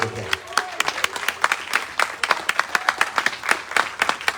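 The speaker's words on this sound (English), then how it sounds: "Please give a round of applause." An evening audience at a presentation and panel gives a round of applause, heard as a looser scatter of distinct, sharp hand claps from a smaller group, fairly close and irregular in rhythm.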